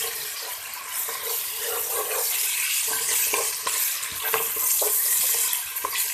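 Chopped tomato being fried and stirred in a pan for a mixed vegetable dish of carrot, peas and potato, with a steady hiss and clinking of the spoon scraping the pan throughout, close and fairly loud.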